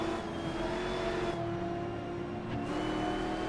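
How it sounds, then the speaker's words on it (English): Nissan race car engine in an online historic sportscar racing game at Riverside, a steady humming drone with faint whine, held at a constant pitch with brief dips, heard alone. "You can hear the Nissan up there."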